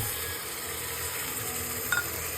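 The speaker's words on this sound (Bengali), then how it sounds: "পেঁয়াজটা একটু ভাজা ভাজা হয়ে গেলে সে সময় একটু মশলা করে নিলাম" Chopped onions fry in a pan for a Bengali mutton curry, giving a soft continuous sizzle with faint stirring and one brief utensil tap near the end.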